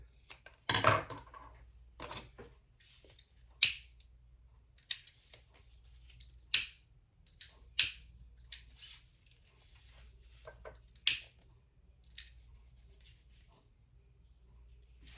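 Scissors trim excess fabric from a sewn crossbody bag near its slip pocket, giving about ten crisp, close snips at irregular intervals with quiet pauses between them.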